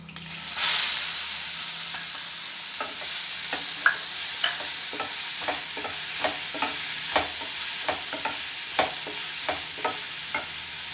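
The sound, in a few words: onions frying in a pan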